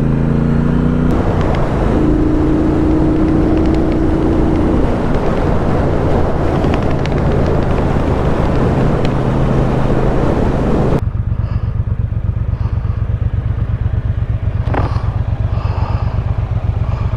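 Motorcycle ridden on a damp road near the Gospel Pass in wet weather, a loud, continuous engine drone buffeted by heavy wind noise, dropping in pitch partway through.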